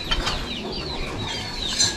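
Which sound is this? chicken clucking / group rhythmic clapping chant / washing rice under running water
chicken clucking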